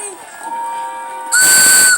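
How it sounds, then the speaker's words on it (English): Toy train steam engine whistles sound in overlapping tones, then a loud, piercing shrill blast of whistles and horns bursts in and holds to the end. "All the engines whistled and blasted their horns."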